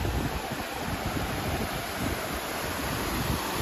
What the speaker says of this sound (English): Pressure pumped water.